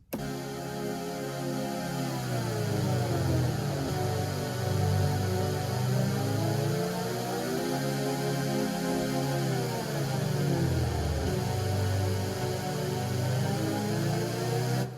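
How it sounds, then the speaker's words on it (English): Lush synthesizer chords slide smoothly in pitch, swelling and gliding between notes in a steady, sustained wash with no voices. "slide synth chords."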